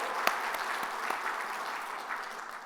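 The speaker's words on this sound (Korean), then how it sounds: "하나님께 영광의 박수." A Korean church congregation gives applause in praise of God during a Lenten sermon: a soft, continuous patter of many hands with a few sharper individual claps, gradually easing off.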